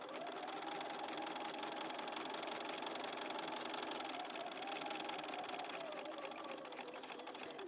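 A sewing machine doing free motion quilting with a stitch regulator hums in a steady, fast, even whir throughout, close and alone, with no break in the stitching rhythm.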